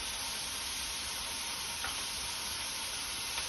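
A paste of spices, coconut, ginger and green chilli fries in a pan with a steady, even hiss, and a couple of faint ticks sit over the sizzle.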